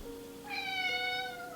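Two pet cats share a home with a rabbit, and one cat lets out a single clear, drawn-out meow, close by and fairly loud, with no talking during it.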